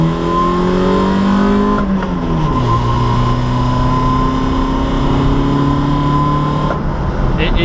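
A Toyota AE86 drift car's engine drones loud and close from inside the cabin, pitch rising through the gears with two clear shifts.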